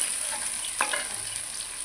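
Paneer fries in a generous amount of oil with a steady high hiss and sizzle, plus one brief clink of a utensil stirring midway.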